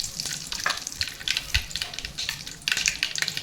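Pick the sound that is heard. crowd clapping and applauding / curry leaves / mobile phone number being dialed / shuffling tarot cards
curry leaves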